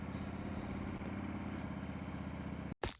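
A motorcycle fitted with a Bassani Road Rage 2 exhaust runs with a steady, low pulsing rumble close by, then cuts out abruptly near the end before a brief restart blip.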